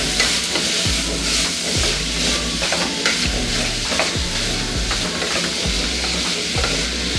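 Cooked horse gram being stirred in a hot pan, with a spoon scraping in a steady repeated rhythm over continuous close, loud frying sizzle and no talking.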